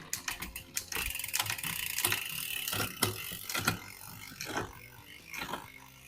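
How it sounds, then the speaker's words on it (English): The drivetrain of a Trek Slash 7 mountain bike is checked on a work stand. Rapid ticking ratchet clicks from the freehub run alongside clunks as the gears shift, close and clear, with no talk. "Let's just check the gears."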